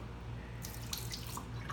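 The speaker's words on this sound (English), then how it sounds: "So now you want to dump out the water." Water splashes and trickles out of a container holding hermit crab shells in a short, uneven pour, with a few spattering drips onto a kitchen table over a low background hum.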